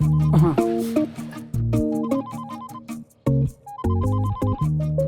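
A telephone rings with a repeating electronic melody ringtone, loud and near, its tonal phrases broken by short gaps, with no one speaking over it.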